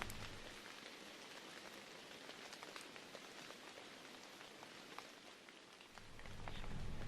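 Rain falls steadily outdoors during an October bow hunt in Wisconsin, a soft even patter of drops with wind noise rising near the end.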